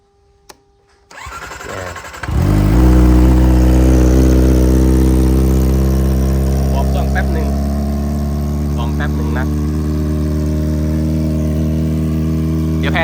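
A 2020 Kawasaki Ninja ZX25R SE with fresh engine oil fires up after a brief crank, then idles and revs loud and close through its exhaust in a steady, rich drone, with a few faint clicks on top.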